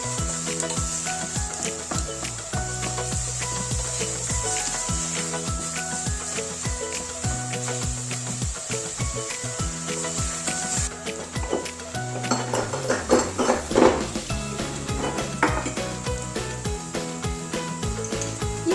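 Zucchini and minced meat stirred in hot oil in a pan: a spoon scrapes and clinks against the pan over a faint sizzle, with busier scraping near the end, all under steady background music.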